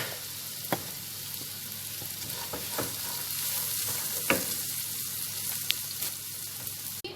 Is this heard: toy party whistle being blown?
no